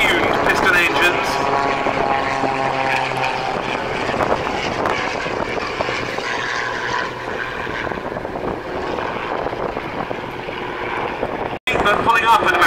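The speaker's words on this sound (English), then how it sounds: "the distinctive engine notes of 4 very highly tuned piston engines." Four highly tuned piston-engine aerobatic aircraft of a display team pass in diamond formation at an airshow, pulling up at about 200 mph, a loud sustained engine drone throughout with a commentator talking over it.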